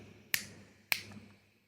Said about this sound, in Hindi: या दोनों हाथ से 3 बार चुटकी बजाएं।